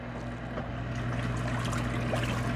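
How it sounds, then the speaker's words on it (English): Water pours and trickles steadily into a spin washer inside an RV as it fills to rinse clothes, a continuous close splashing flow with a low mechanical hum beneath it. "We'll rinse all the soap and stuff off of the clothes, and then we'll spin them out"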